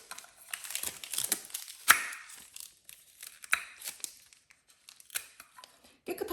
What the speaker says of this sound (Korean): 비닐을 제거를 먼저 해주시고